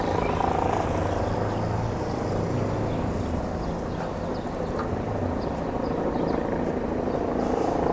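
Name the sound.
helicopters flying overhead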